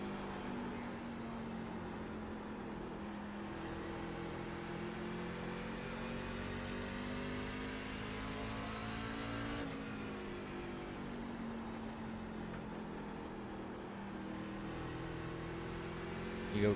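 Race cars in the iRacing sim game during a stage-one finish drone continuously with layered engine tones that rise and fall, forming a steady loud pack roar throughout.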